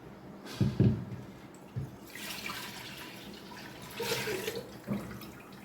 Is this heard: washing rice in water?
yes